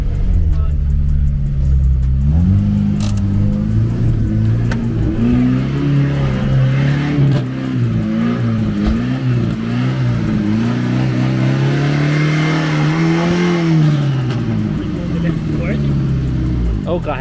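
A rare Volkswagen car engine revs hard, rising and falling repeatedly in loud, close mid-pitched surges with a steady rumble underneath, while people talk and shout over it.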